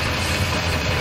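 Ship engine room machinery in the Sonic Adventure DX video game, a space full of big gears, gives off a steady, loud, droning mechanical rumble that holds unchanged throughout.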